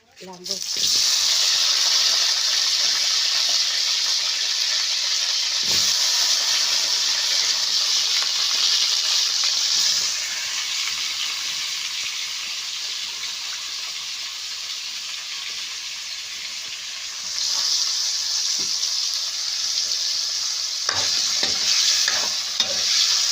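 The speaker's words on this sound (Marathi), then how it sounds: "तेल तापलं का लगेच आपल्याला बटाटे टाकायचे" Potatoes fry in hot oil on a wood-fired stove for a potato curry, a loud, steady close sizzle that softens midway and swells again, with occasional stirring clinks.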